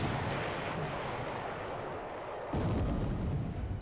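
Naval gunfire in a war video game, a Pacific naval battle where the destroyer Bannon trades fire with the cruiser Yahagi: a steady rumbling roar of guns and sea noise, turning suddenly louder and harsher about two thirds of the way through, with no talk.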